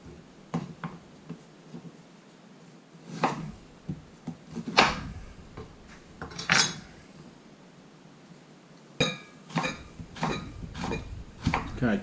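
Knife cutting a jicama on a board, a series of sharp, sparse chops and knocks spaced irregularly, close and clear with no talk.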